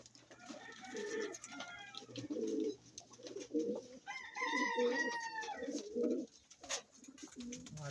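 Pigeons coo in repeated low, throaty phrases, fairly close, with soft background noise and a few faint chirps.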